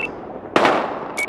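Gunfire in the video game Battlefield Hardline: a single sharp, loud shot bursts out and decays over a fraction of a second amid low background noise, with a faint brief tone before and after.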